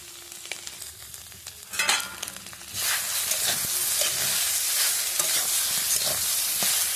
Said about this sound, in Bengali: খুব বেশি ভাজবো না, তো একটু অল্প নেড়ে নিচ্ছি আলুর সাথে।